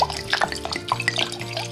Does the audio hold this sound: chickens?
no